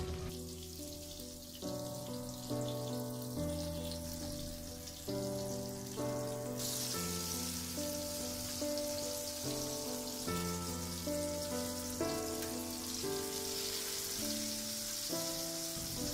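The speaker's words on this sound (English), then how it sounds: "First, we need to fry our begun or brinjal." Brinjal pieces marinated with turmeric and salt sizzle in hot oil with a constant, crackling hiss, while background music with shifting tones plays underneath.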